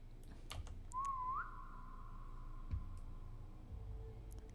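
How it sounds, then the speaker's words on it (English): A player character whistles in the Roblox SCP 3008 game set in an after-hours IKEA, a single rising then sustained tone lasting about a second, moderately clear over a low ambient hum. "I whistled."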